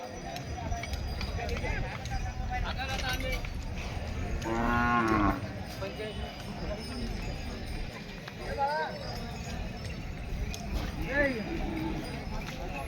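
A bull lowing loudly a few times, with shorter moos later, amid a busy outdoor crowd at a cattle market in Pusad, India, with people talking and hooves shuffling.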